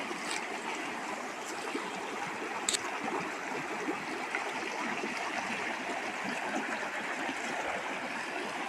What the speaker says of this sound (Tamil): பாருங்கள் மழை தண்ணி அவ்வளோ அருமையாக வந்துட்டுருக்குன்னு